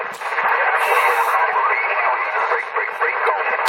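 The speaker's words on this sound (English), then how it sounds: "Bunch of fucking noise in my radio." A walkie-talkie radio gives off a dense, steady burst of hissing static and garbled noise that lasts a few seconds and ends with a click.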